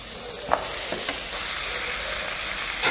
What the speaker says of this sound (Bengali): এখন আমি উপর থেকে ম্যারিনেট করা চিকেনটাও দিয়ে নেব।